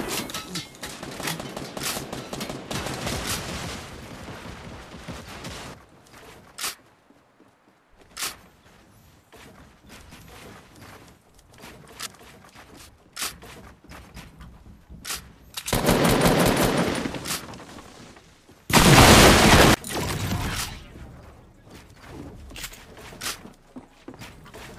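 Gunfire in the video game Fortnite: several bursts of rapid automatic shots, loud and close, separated by quieter stretches with footsteps, ending in a dense, intense volley.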